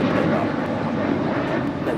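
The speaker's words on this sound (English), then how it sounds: "This is Alaska Airlines Flight 1388 departing to Los Cabos on a 22-year-old 737-900" A 22-year-old Alaska Airlines Boeing 737-900 without winglets departing LAX for Los Cabos, a continuous jet engine roar at some distance, steady and broadband with a slight swell.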